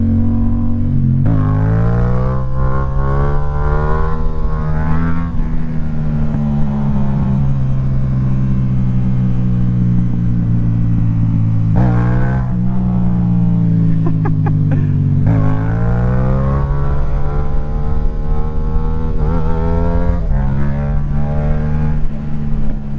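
A Yamaha MT-07 motorcycle is ridden hard, its engine loud and close, rising in pitch through the revs, dropping at each gear shift and climbing again, with wind roar underneath.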